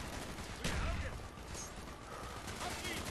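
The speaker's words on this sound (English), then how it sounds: "That's a guy shooting through a table." Gunfire through a table in Call of Duty Black Ops, a burst of rapid shots with impact crackle over a noisy battle background, with talking mixed in.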